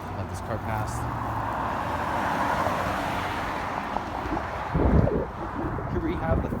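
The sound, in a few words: car passing at a railroad crossing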